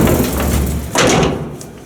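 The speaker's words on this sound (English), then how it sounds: "Wonderful interlock sound. And a 2-speed inside door." A freight hydraulic elevator with a rotary piston pump in Buffalo, NY, its door interlock clunking heavily before the two-speed inside door slides with a close rumbling thud that fades out.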